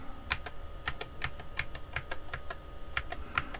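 Keys on a Tandy Model 4P computer keyboard are struck one at a time during diagnostics, giving sharp, close clicks at an irregular, unhurried pace over a faint steady hum.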